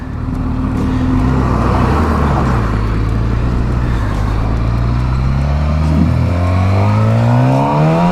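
A 2007 Suzuki GSX-R750 K7 sport motorcycle engine revs up steadily, its pitch climbing smoothly as it accelerates, loud and close, with no talking.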